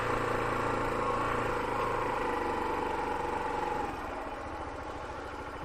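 Motorcycle or moped engine held at around 3000 rpm during a pull-away practice, a steady close rumble that eases and drops in level near the end.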